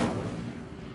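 A fire spell cast in Hogwarts Legacy bursts out as a single muffled whoosh-boom at the start, then fades into a dull low rumble over about a second.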